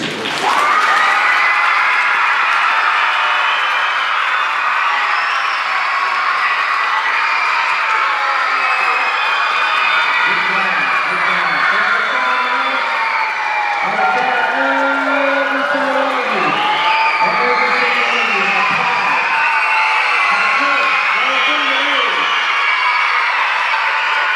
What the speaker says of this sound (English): I want you to give a round of applause for your teachers